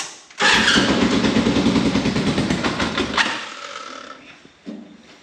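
A small Kawasaki kart engine cranks and fires, revving loudly and close for about three seconds before cutting out, followed by a brief faint knock and a short sputter.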